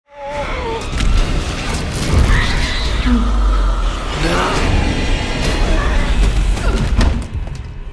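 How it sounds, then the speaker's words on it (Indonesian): Big explosion in a horror film scene, heavy booming thuds and crashing rumble sustained for several seconds with debris-like clatter, loud and close, mixed with dramatic score. "Tidak lama kemudian, ledakan besar terjadi."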